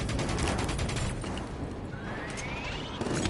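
A minigun fires in a Call of Duty: Black Ops 3 campaign battle, a loud, continuous rattling stream of rapid shots amid surrounding combat noise.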